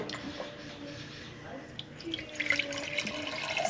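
Water from a tap runs and trickles into containers on a kitchen counter, a soft uneven splashing that grows a little louder near the end.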